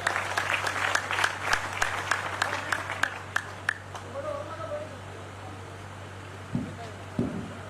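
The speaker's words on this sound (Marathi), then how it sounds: "एकदा जोरदार टाळ्या" Audience clapping at a Ganesh festival cultural evening in Nanded, dense and moderately loud for the first few seconds, then thinning out into a few scattered claps over a low steady hum.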